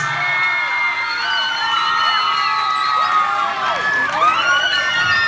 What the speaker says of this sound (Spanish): muy bien un fuerte aplauso para Sebastián